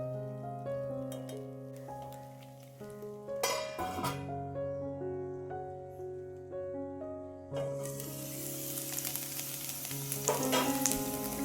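Cluster beans (gavar) frying in hot oil while being stirred, a steady close sizzle with occasional scraping and stirring clatter that swells louder toward the end.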